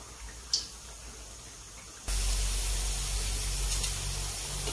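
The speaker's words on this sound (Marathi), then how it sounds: "छान पद्धतीने आपण हे अगदी व्यवस्थित तळून घ्यायचं आहे" Pua, a sweet fritter, frying in hot oil in a pan gives a steady loud sizzle that jumps sharply louder partway through and then holds as a dense continuous hiss.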